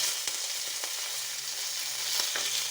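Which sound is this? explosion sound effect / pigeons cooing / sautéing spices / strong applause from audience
sautéing spices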